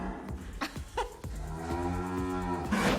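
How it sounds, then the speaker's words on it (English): Dairy cows in a barn moo loudly and close by, a long drawn-out bellow with overlapping calls and shuffling underneath, no talking. "The cows were very loud."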